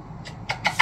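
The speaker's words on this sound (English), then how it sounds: "Such a cute cat." A cat gives a few short, soft meows in quick succession, close by, in a quiet room.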